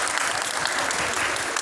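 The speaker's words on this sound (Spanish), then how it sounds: "Fuerte aplauso para" School students applaud at a gender-violence awareness assembly at Escuela Francisco J. Mújica, producing a dense, steady burst of clapping close by that fills the short moment with no voices over it.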